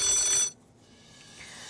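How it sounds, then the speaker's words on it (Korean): A telephone ringing in a television studio, one short bright electronic ring that stops abruptly and leaves quiet room tone. "전화가 오는 것 같습니다."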